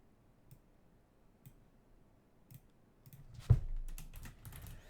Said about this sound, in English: For now, what I'll do is I'll type